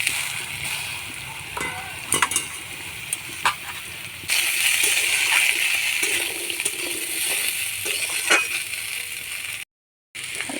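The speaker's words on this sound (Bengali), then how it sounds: "তেল গরম হয়ে গেছে। এবার আলুগুলো দিয়ে দেবো।" Potatoes dropped into hot mustard oil in a pan, a loud steady sizzle and frying hiss that swells after they go in, with some stirring clinks.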